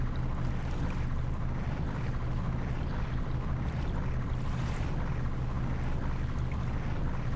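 A ship's engine in the Professional Ships Simulator video game runs as a steady low rumble, with the port engine at ten percent power. The sound is continuous and even, with wind-like and water-like noise and no talk.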